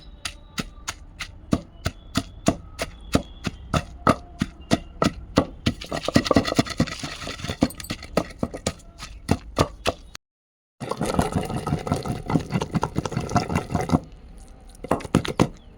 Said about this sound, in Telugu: ఇప్పుడు వీటిని మెత్తగా నూరుకుందాం